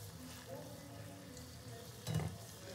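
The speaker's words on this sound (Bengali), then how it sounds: "এই যে তো একদম চপের আকারে পিঠেগুলোকে ভেজে নিতে হবে।" Adosha pitha cakes deep-fry in oil with a soft, low bubbling sizzle, fairly faint and steady, with a brief louder stir or splash near the end.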